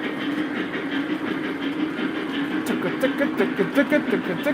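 A Lionel 844 O-gauge model steam locomotive rolls along, its chuffing growing into distinct rhythmic puffs toward the end over a steady running rumble, close and alone.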